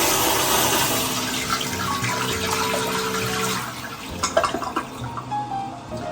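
A HOROW T05 smart toilet flushing, a loud close rush of water that gradually thins into trickling and gurgling drips as the bowl refills.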